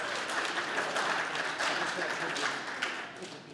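Conference audience clapping after a talk, a sustained wash of many hands clapping at moderate distance, fairly even in level and tapering slightly at the end.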